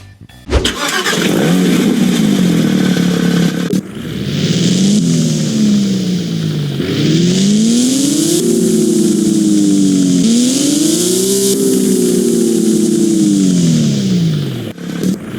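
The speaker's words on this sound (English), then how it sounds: "And now listen to this Porsche." A Porsche engine revs hard in the Midnight Chasers racing game, loud and close, rising and falling through several surging pulls after a brief start, with no talk over it.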